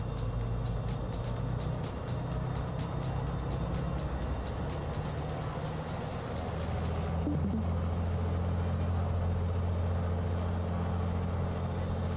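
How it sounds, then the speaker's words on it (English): A small airplane engine holds a steady, loud drone during a run-up to 1700 RPM. The deep hum continues without a break and shifts slightly partway through. "So we're gonna push our RPMs to 1700."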